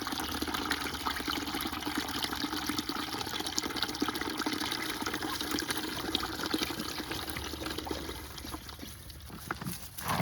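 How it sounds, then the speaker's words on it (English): Water runs steadily into a container of scratch grain being soaked for fermented chicken feed, a close, continuous pouring and trickling wash with no talk. "you want to put tons of water in there,"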